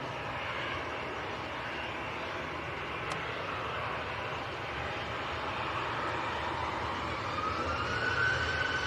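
A Ryanair airliner comes in to land at Manchester Airport in a strong crosswind, a steady broad roar of jet engine and wind noise that holds at a moderate, distant level and swells slightly toward the end.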